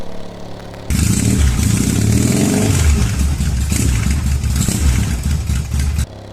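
A Yamaha XS650 motorcycle pulls away and accelerates on a tea-plantation mountain road, its engine rising from a low idle into a loud, sustained roar that stays close and steady before easing off at the end.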